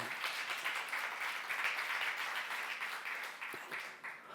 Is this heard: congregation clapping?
yes